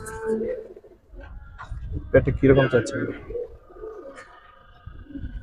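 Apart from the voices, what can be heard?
giribaz pigeons cooing on rooftop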